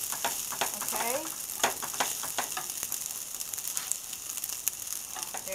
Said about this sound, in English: now I have to put my crab meat in here now